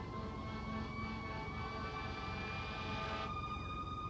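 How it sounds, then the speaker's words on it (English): A fire truck siren holds a steady high wail over a dense rumble of engines and traffic, continuous throughout. "It's a fire truck."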